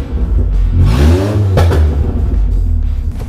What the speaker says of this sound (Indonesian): Knalpotnya ngalah nih, suara udah gede.